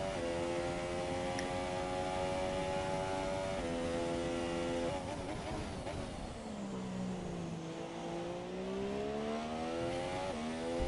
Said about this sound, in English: Let's listen to the engine for this whole lap.